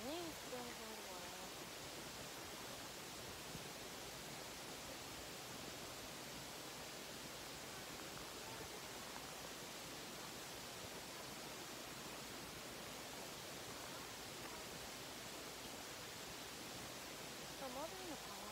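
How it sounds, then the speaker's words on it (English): Steady hose spray watering garden plants on a hot 100-degree day, a continuous broadband hiss running unbroken and fairly loud throughout, with faint speech now and then. "I'm just watering the plants."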